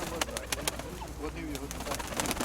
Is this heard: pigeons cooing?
yes